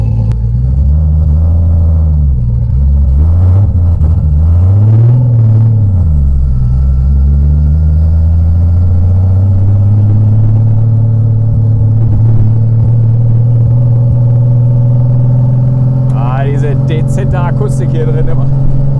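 A VW Golf with a faulty valve cover accelerates, its engine droning loud and continuous as the pitch sweeps up and down through gear changes, then settles into a steady low rumble, with voices talking over it.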